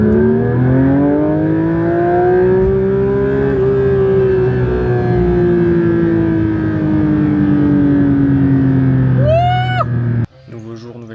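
A car engine hums and revs in long sustained sweeps that rise and fall over about ten seconds, loud and close, before cutting off abruptly, followed by a short burst of other noise.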